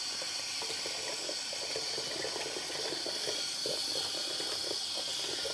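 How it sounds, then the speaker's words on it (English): Cold tap water runs steadily into a sink while acid-dyed yarn is rinsed in cold soapy water, a constant close hiss with soft splashing and no talk. "I'm going to rinse this out."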